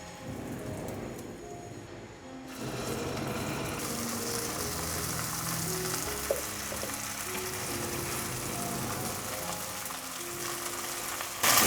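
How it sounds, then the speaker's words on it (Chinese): Slices of dried tofu fry in a pan with a steady, close, crackling sizzle that continues evenly throughout, with a sharper pop near the end. "先让它煎一下，"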